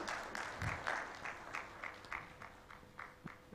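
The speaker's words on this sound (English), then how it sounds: "Big round of applause for Dr." Audience at a healthcare quality improvement conference applauds a speaker, rhythmic claps from a modest crowd, distinct individual hand strikes heard fairly quietly in a hall.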